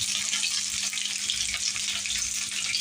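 Chopped onion and tomato fry in hot oil in a pan, giving a steady, dense sizzle that runs unbroken and fairly loud throughout, with no talking.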